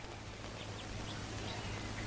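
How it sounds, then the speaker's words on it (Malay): Two newly hatched ducklings, one male and one female, peep continuously and close by over steady background hiss, with no talking. "2 ekor anak itik yang baru menetas."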